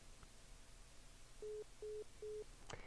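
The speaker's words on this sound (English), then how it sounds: "Phone is ringing." A telephone rings on a call during a live call-in show, heard as three short, evenly spaced tones from the line. The sound is faint and stands alone against quiet background hiss.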